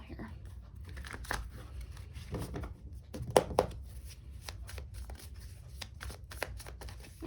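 Tarot cards being shuffled by hand, a soft papery rustle with a few sharper riffling bursts near the middle, close and fairly quiet.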